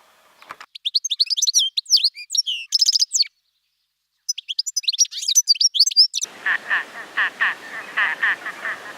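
A goldfinch, a small seed-eating bird, sings in bursts of high, rapid twittering notes broken by a short pause, followed by a steady series of repeated buzzy chirps, loud and close.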